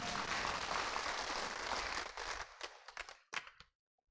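An audience claps together in a dense burst of applause that lasts about two seconds, then thins into a few scattered, fading claps before stopping. The sound is faint and distant.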